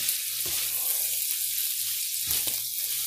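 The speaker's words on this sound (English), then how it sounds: "Okay guys, the sausage is still cooking." Sausage sizzles steadily in a hot pan while being cooked for dirty rice, a constant close hiss with a few brief louder crackles and no talking.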